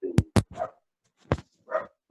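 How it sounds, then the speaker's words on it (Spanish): A small dog barks in a few short, sharp yaps in two clusters with a quiet gap between, clear and fairly close with no voices over it. "está escuchando un perrito"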